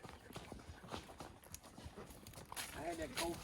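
Horse hooves clip-clop over a rocky trail ride in an irregular walking rhythm, faint and close, with creaks and scuffs mixed in and people talking over them.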